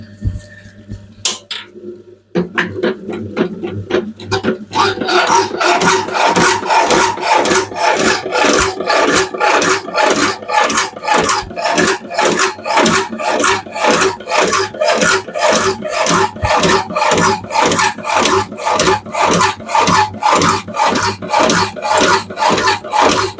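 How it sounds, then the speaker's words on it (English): A power hacksaw cuts through a piece of metal rail, its blade stroking back and forth in a steady, loud, evenly spaced rasp. The rhythm holds unbroken after a brief startup, close to the microphone and with no talking. "now into the power hacksaw and get this bit cut off and cleaned up"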